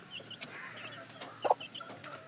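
Week-old native hen-hatched chicks of a spiky-feathered breed give soft, sparse cheeps and clucks, with one brief louder chirp burst near the middle over a quiet background.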